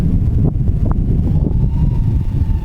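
Wind gusting across an open field buffets the microphone during FPV drone flying, giving a steady, rough low rumble that runs unbroken throughout.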